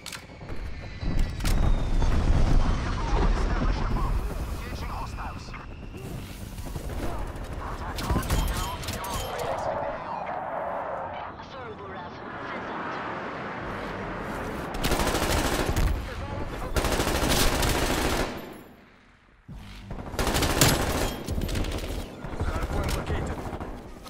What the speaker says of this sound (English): Strafe run incoming on your left.